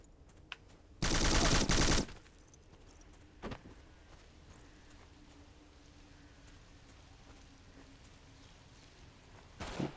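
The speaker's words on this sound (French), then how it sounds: "Ça tire, mais je sais pas où." A loud burst of rapid automatic gunfire lasts about a second in the Xbox One shooter Black. Fainter isolated shots and crackles follow against a quiet background.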